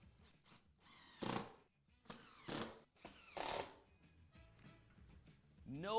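Screws go into a wood and resin stool seat with a power driver, three short whirring bursts separated by pauses, quiet and close, among faint handling noises.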